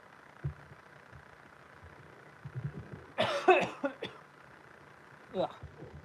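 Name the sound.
cough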